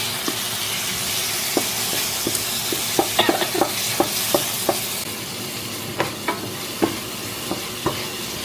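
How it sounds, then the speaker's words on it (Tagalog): Ground pork sizzles in a hot pan with chopped brain and spicy seasoning for a Cebu-style dish, a steady frying hiss broken by repeated clacks and scrapes of a spatula stirring, close and clear without talk. "Tutuin natin ang giniling"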